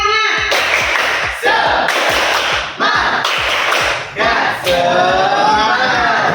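A primary school class in Indonesia claps in a fast, patterned rhythm, pausing briefly between bursts, loud and close, with children's voices mixed in.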